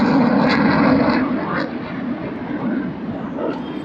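An Air Force fighter jet roars overhead in a military area near Bhuj, India, a loud broad rumble that slowly fades, with wind noise and no talk.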